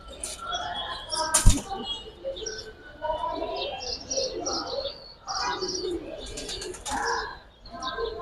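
Giribaz and Afsan bagha pigeons coo and birds chirp in a busy, nearby chorus at a pigeon sale, with a sharp knock partway through and faint voices mixed underneath.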